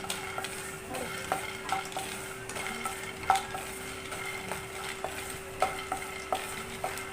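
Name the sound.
dry roasting peanuts and sesame seeds in a pan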